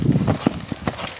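Hooves of a gray purebred Lusitano gelding, 166 cm tall, galloping with a quick clip-clop rhythm of distinct muffled thuds, close and moderately loud with no voices.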